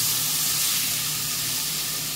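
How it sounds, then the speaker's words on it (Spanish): Sofrito sautéing in a pan with a little oil, a steady, loud, close sizzle and hiss that holds unbroken throughout, with no one speaking. "Y sofreímos bien. No se le agregue mucho aceite tampoco."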